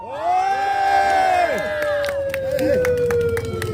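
A crowd at an outdoor press conference at Chonnam National University, South Korea, claps and cheers loudly and steadily, with whoops and shouts rising over the applause, alongside a high whistling tone that slowly falls in pitch.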